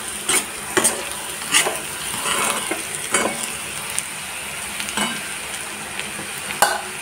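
Potato fry sizzles in a pan while a utensil stirs it, with sharp scraping clacks recurring every second or so over a steady, close frying hiss; no voices.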